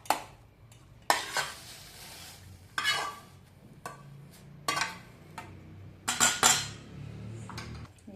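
A spoon scrapes and clinks intermittently against a pan while fenugreek leaf mixture is stirred, with sharp metallic strokes separated by quieter pauses.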